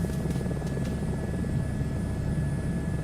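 Steady, loud helicopter rotor and engine drone from a search-and-rescue flight in Microsoft Flight Simulator 2024, a continuous even roar throughout with no talk.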